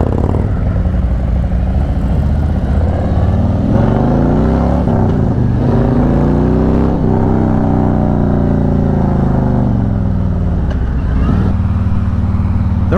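A Harley-Davidson motorcycle engine rumbles steadily throughout a ride, loud and close, with rising and falling revs as it accelerates and shifts along the road.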